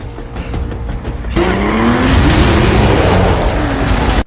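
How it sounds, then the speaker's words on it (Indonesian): A car in a film smashes through an interrogation room: a low engine rumble, then a sudden loud burst with squealing tires and roaring motor that sustains for several seconds before cutting off. "ada sebuah mobil yang menerobos ruang interogasi tersebut"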